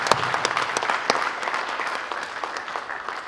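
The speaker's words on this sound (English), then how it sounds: "Let's give those cadets a round of applause" Audience applause for fire academy cadets at a graduation ceremony, a dense, steady wash of many hands clapping at even loudness, with a few sharper nearby claps standing out.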